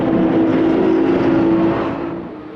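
A Lamborghini Super Trofeo and pursuing Porsche race cars at Paul Ricard circuit make a loud sustained engine drone that swells, then fades as the cars pull away.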